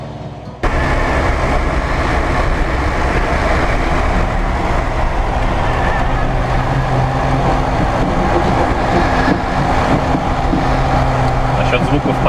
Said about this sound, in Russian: Насчет звуков подвески не пугайся. Она максимально зажата специально для того, чтобы быть максимально жесткой